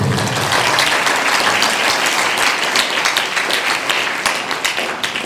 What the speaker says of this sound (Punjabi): ਤਾਲੀ ਮਾਰੀ ਇਸ ਨੂੰ